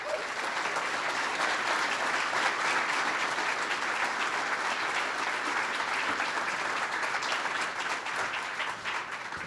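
A large crowd applauds steadily and loudly to welcome Jerry Colangelo at a Grand Canyon University athletics announcement, the clapping dense and sustained throughout with no break.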